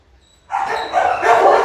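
An Akita dog giving a short, sharp bark or yelp that starts abruptly and holds for about a second, close and loud, with no talk.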